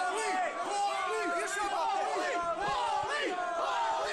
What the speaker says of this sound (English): the crowd chanting for Paulie